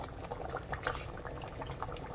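Khilek (cassia leaf) curry seasoned with salt and fermented fish sauce simmers in a pot, giving a soft, steady bubbling with small irregular pops that stays quiet and continuous.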